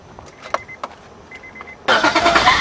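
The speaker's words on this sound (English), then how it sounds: "my car's gonna start" A car engine cranks and catches, roaring into a loud, steady run after a few quiet clicks and small handling noises, close by with no talk.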